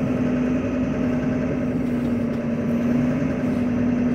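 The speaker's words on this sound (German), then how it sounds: "Wir bringen den Fendt 39 vor die Tür." A Fendt 939 Vario tractor engine runs steadily as the machine is driven out of the shed, a constant mid-pitched drone with a strong steady hum, close and unchanging, with no talk over it.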